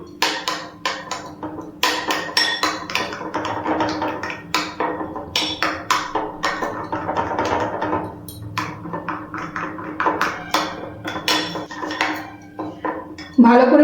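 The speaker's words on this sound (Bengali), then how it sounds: "এবার সবকিছু ভালো করে মিশিয়ে নিচ্ছি।" Chicken keema being mixed with turmeric, Kashmiri chilli powder and kasuri methi in a bowl, giving a steady run of close clinks and scrapes of a utensil against the dish, with one loud knock at the end.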